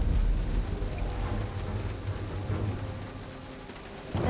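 Steady rain falling in the Jurassic Park video game, a dense wash of drops with low rumbling underneath that holds at an even level throughout, with no speech.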